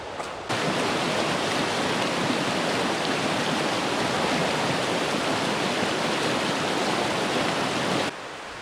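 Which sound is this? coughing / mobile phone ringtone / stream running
stream running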